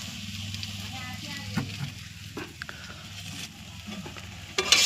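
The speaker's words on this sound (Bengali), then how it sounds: "কচুরলতি রান্না হচ্ছে।" Kochur loti (taro stolons) fry in a pan with a steady sizzle while a spoon stirs them, scraping and clattering now and then, with a louder clatter near the end.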